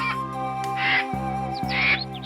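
A crow in an animated children's moral story, flying over a village, gives two harsh caws over a steady tonal music bed, the calls close and clear.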